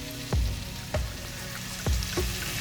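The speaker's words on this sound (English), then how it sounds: "Now we're just going to let this saute here for about a minute until the tomatoes start to" Garlic, thyme, onions and baby tomatoes sauté in a hot pan, giving a steady close sizzle broken by several soft stirring thumps.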